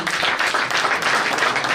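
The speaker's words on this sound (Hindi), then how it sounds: "अशोक जी के लिए जोरदार ताली।" Audience applause at a Delhi oath-taking ceremony, a dense, steady wash of many hands clapping throughout, fairly loud and unbroken.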